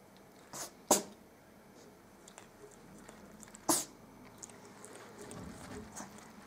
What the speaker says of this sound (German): Dann musst du niesen dabei.